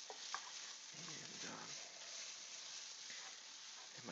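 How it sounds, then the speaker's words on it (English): Tomato paste being stirred with onions in a pan for chicken tikka masala, a soft, close scraping and sizzle with gentle, uneven strokes and no talking. "I'm stirring my tomato paste with my onions"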